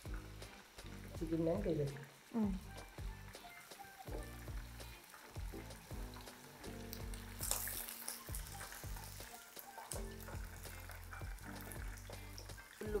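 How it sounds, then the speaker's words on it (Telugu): Chicken deep frying in hot oil for chicken in black bean sauce, a steady crackling sizzle running throughout with a brief stir, while a person talks over it. "ఫ్రై అయ్యింది మొత్తం డీప్ ఫ్రై అయ్యింది"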